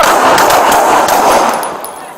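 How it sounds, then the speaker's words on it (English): A loud, rapid volley of gunshots fired at close range during a police encounter at Hollywood and Highland in Los Angeles, the bursts harsh and continuous before tailing off slightly. "Officer needs help, Hollywood and Highland, shots fired"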